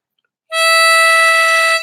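One loud, steady blow note on hole 5 of a diatonic harmonica sounds close up, starting sharply after a brief silence and holding evenly for over a second.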